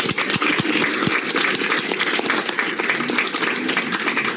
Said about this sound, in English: So thank you for the applause for Tricia coming on board and jumping right in.